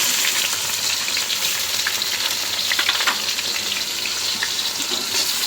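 Onions sizzle in mustard oil in a pan, a dense, loud, continuous frying hiss with faint crackles throughout and no voices.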